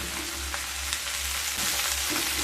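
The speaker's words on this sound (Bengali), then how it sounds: "নেড়ে নিয়ে কেটে রাখা কুঁদলিগুলোকে দিয়ে দেবো।" Chopped ivy gourd (kundri) tossed into a pan with potatoes, frying in a steady, close sizzle with a few soft stirring scrapes and no talking.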